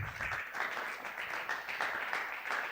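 Church congregation applauding at a Sunday worship service, dense continuous clapping from many hands at moderate level, steady throughout.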